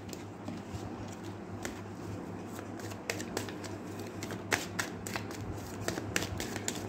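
Tarot cards shuffled for a reading, a steady close riffle of papery flicks and snaps with no talking.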